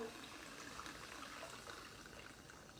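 Malibu rum poured into a fish bowl drink already holding berry cream soda, a soft continuous liquid trickle at low level, alone without talk.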